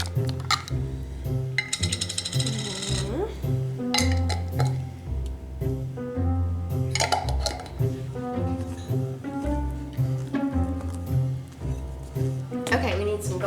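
Cheeseball ingredients are mixed in a bowl, with a steady run of clinks and scrapes from a utensil against the dish, close and busy, under ongoing talk and background music.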